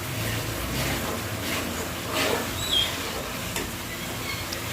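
Turmeric being stirred into fish curry masala in a pan, a soft, continuous close sizzle with gentle scraping swells as the mix is moved around.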